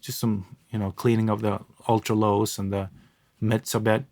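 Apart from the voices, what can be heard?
None of the usual background noises is heard.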